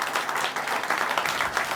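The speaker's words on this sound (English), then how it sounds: "Please give them all a round of applause" Audience at a coastal restoration projects celebration giving a round of applause, a dense, continuous patter of many hands clapping at steady loudness.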